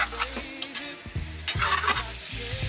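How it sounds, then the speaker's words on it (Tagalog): Pork adobo is stirred in a pan with scraping spoon strokes against the metal over a light sizzle, close and fairly loud, with a brief tonal squeak mixed in and no talking. "Haluin natin para ma-distribute dito sa ating karne"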